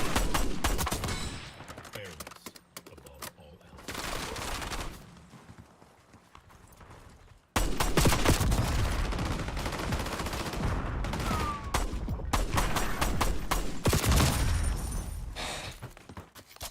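Rapid video-game gunfire crackles in dense bursts, loud and close, with quieter stretches and game noise in between.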